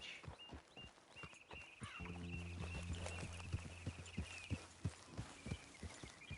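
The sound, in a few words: horse hooves clip-clopping in Red Dead Redemption 2, video game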